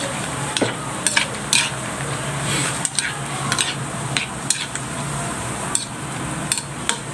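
A utensil stirs food in a pot over sizzling heat, with sharp scrapes and clinks against the metal at irregular intervals over a steady frying hiss.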